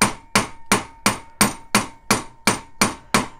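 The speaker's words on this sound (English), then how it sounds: "I would hammer a regular band on a ring mandrel" Steady, evenly spaced hammer blows on a ring band on a ring mandrel, about ten in a row, each a crisp close tap that rings briefly before the next.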